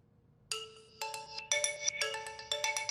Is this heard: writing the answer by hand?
no